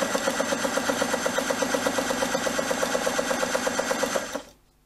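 A Toyota sewing machine runs at a steady rapid clatter, its regular needle strokes close and even for about four seconds before it stops and falls silent.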